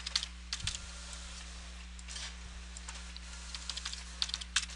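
A gift card is swiped through the reader of an Aldelo POS terminal and enter is pressed, giving a few quiet, scattered clicks and key taps over a steady low electrical hum, with no talk.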